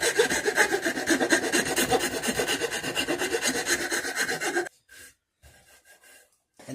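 A wood rasp files a wooden war club in steady, rapid back-and-forth strokes, loud and close for several seconds before stopping, followed by a few faint, brief scrapes.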